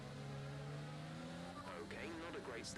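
Engine roar from a racing car in a racing video game, with a tyre lockup and skid as squealing tones rise over steady engine drone late on, under continuous talk.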